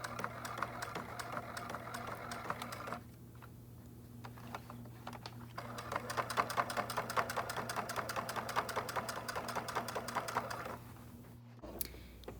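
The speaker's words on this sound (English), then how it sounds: "You put the needle down, you turn your corner, and you continue stitching." A home sewing machine stitches quilt binding around a corner in quick, even bursts of rapid needle clatter, pausing briefly for the needle-down turn before stitching resumes, close and clear over a constant low motor hum.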